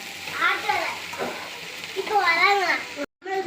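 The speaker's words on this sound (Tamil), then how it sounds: "வெண்டைக்காய் சேர்ந்து வதங்கும் போது வெங்காயம் நல்லா தன்னால் நல்லா வதங்கிடும்" Sliced okra and onion sauté in an oiled pan, giving a steady sizzle with occasional stirring, while a person talks over it throughout.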